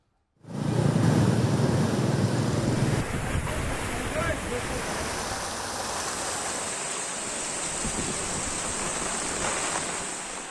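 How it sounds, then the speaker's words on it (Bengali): Loud, steady roar of rough surf on a coast during a rainstorm, with strong wind buffeting the microphone, continuous throughout with no voices. "উত্তাল সাগর, বৃষ্টির সঙ্গে বইছে ঝোড়ো হাওয়া।"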